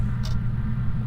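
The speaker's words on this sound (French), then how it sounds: "C'est le ventilateur du salon." A living room fan in Phasmophobia hums as a steady low drone with a constant rumbling tone and a brief faint hiss near the start, no voices present.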